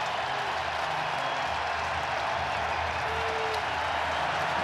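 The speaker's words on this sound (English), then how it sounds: "And here comes the crowd at American Family Field." A baseball crowd roars steadily at American Family Field during a Mets vs Brewers Wild Card game, a dense and continuous wash of cheering that carries on unbroken throughout.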